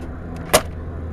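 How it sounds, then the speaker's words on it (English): Power trunk latch on a 1984 Chevrolet Monte Carlo CL releasing, a single short sharp pop standing out alone against quiet background. "Let's pop that trunk."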